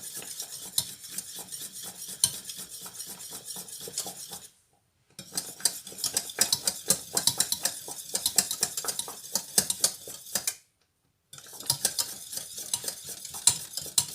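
A spoon stirs thick gravy sauce in a pan, scraping and clicking in a steady, busy rhythm with a faint sizzle beneath. It is close and continuous, broken by two short silent gaps.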